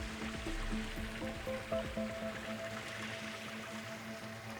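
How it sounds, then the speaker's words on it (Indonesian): Swift water of the Cilengsi river rushes past in a steady, broadband wash, fairly close and continuous, with faint tonal hum threaded underneath. "Alirannya deras sekali."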